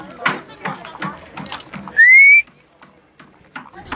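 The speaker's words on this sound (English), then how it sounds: "Can I whistle in your microphone?" A single short, clear rising whistle sounds in a pause between stretches of talking.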